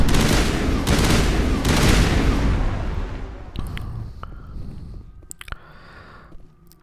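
Dense rapid gunfire and bursts from Mass Effect Legendary Edition, loud and continuous for several seconds, then thinning into scattered sharp shots and impacts as the firing tapers off.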